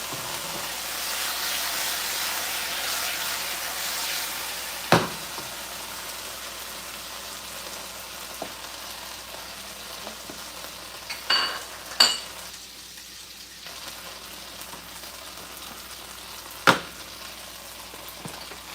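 Very ripe plantains fry in a pan with a steady, even sizzle throughout, broken by a few sharp clicks and knocks of utensils against the cookware.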